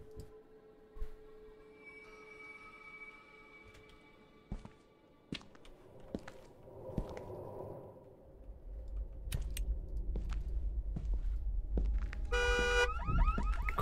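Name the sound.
car alarm in the video game Visage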